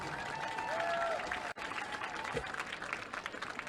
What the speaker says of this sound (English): Let's give all of our senior football players a big round of applause.